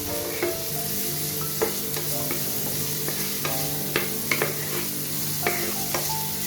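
Meat fries in a pan with a steady close sizzle, broken by intermittent spatula scrapes and taps as it gets stirred.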